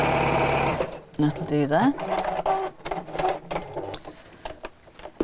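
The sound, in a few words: sewing machine sewing across the bottom of fabric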